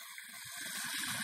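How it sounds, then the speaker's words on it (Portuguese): A waterfall in the Serra near Ubajara, Brazil, rushes with a steady, loud, broadband roar of falling water, continuous and even throughout. "Essa queda d'água aqui."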